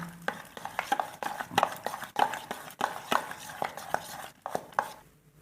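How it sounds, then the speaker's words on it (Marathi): Quick repeated scraping and tapping of a utensil whisking thick strained yogurt in a pot, in a steady uneven rhythm. "आता ही चक्का आपण चांगला फेटून घ्यायचा असं"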